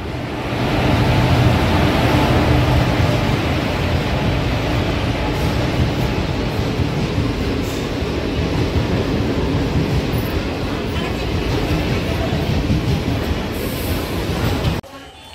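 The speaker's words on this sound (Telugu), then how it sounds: "మనం ఎక్కాల్సిన ట్రైన్ అయితే వచ్చేసింది." A passenger train pulls into a clean station platform, a loud, sustained rumble and rush of wheels and carriages rolling in for about fifteen seconds before cutting off abruptly.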